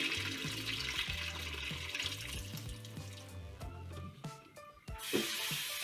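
Tap water runs steadily into a sink as leeks are rinsed, with soft splashing and clunks of produce against the basin, closing on a brighter gush of flow.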